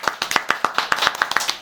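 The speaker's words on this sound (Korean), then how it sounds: "박수!" A few people clap together in an even, brisk rhythm to welcome a guest to a studio broadcast, close and dry, with about a dozen crisp claps and no voices.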